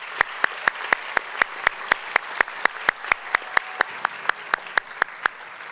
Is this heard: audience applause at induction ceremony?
yes